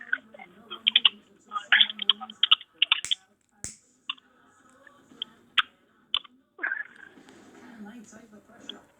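Soft clicks of typing on a computer keyboard, sparse clusters of keystrokes close by with quiet gaps and some talking in between.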